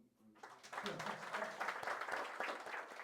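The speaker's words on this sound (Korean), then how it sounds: "근데 박수 한번" A crowd at a forum breaks into steady applause, many hands clapping together in a dense, sustained patter that fills the room.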